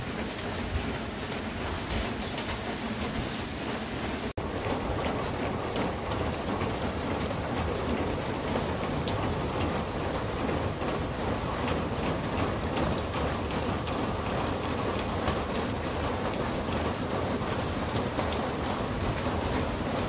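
Heavy rain pours down steadily throughout, a dense, unbroken hiss of drops on surfaces that stays loud and even from start to finish.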